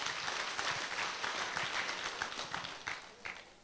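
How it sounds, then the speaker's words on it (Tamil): Audience applause at a training course closing ceremony in a Chennai hall, a dense burst of many hands clapping that slowly thins toward the end. "அவருக்கும் வந்து ஒரு பெரிய கைத்தட்டு கொடுங்க."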